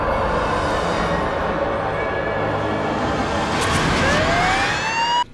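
A loud emergency siren wails and sweeps in pitch, rising sharply near the end over road noise before cutting off.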